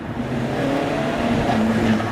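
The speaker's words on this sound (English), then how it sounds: "And listen also to the turbo" Alfa Romeo 4C with its 240-horsepower turbocharged engine revving steadily, a continuous close engine drone with a faint turbo whistle, no voices.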